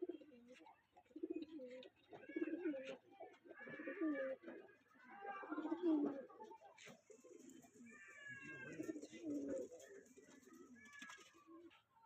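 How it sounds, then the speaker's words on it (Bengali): A Fulshira breed pigeon coos close by in soft repeated throaty rolls, several phrases spread across the stretch, while someone talks quietly over and between the calls. "এটা ফুলশিরা পায়রা আছে"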